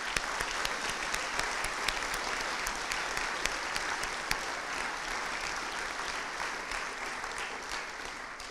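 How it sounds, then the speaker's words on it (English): A carol concert audience for the Cornwall Air Ambulance charity claps in a dense, sustained round of applause that holds at an even level from start to finish, with no talking over it. "So a big round of applause to them, please."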